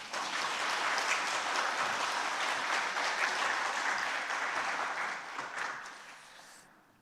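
Sustained applause from a church prayer meeting congregation, steady and dense for several seconds before tapering off and fading at the end.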